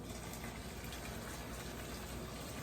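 Liquid mixture for a jerk chicken pot pie is poured into a dish, a steady continuous gurgling wash of pouring liquid that holds evenly throughout, fairly quiet and with no voices over it.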